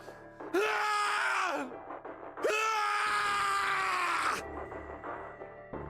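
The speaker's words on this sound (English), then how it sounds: "His scream echoed through the incineration chamber, full of rage and despair" A voice in the video game Zero Escape: 999 lets out a drawn-out scream of rage and despair, then a second, longer, louder cry, both close and strained.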